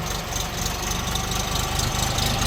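A three-cylinder Bulat 244L tractor engine idles with a steady low, knocking rumble and faint vibration, continuous and fairly close, with no voices.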